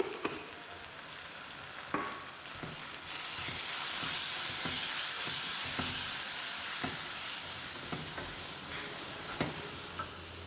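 Spice powders fry in a pan for an egg roast, a continuous close sizzle broken by frequent light scraping stirs and occasional sharper clicks, with no one talking.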